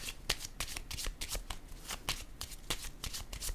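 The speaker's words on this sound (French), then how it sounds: "Je vais déposer une carte sur l'épée et la rose." Cards are handled and laid down during a tarot-style card reading, a quiet run of quick, crisp flicks and snaps that repeats steadily and close to the microphone with no talking.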